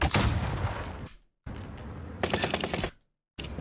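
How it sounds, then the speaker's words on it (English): Rapid bursts of automatic gunfire from an enemy blind firing in a tactical shooter video game, loud and close, in three sustained volleys separated by short silent gaps. "He's literally just blind firing."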